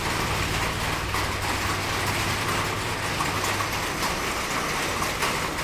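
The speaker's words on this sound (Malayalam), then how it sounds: "ഈ മഴയുടെ സൗണ്ട് കാരണം കറക്റ്റ് നിങ്ങൾക്ക് കേൾക്കാൻ പറ്റുന്നില്ല എന്നാണ് തോന്നുന്നത്" Steady, dense rain pours down around a parked 2016 petrol manual used car, a loud continuous hiss that fills the whole clip with a faint low engine-like hum beneath it.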